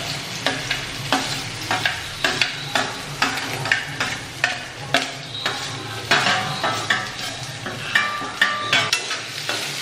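Dry fruits stirred and lightly roasted in ghee in a pan, a steady sizzle broken by repeated scraping strokes of a spoon against the metal, close and fairly loud, with no one talking.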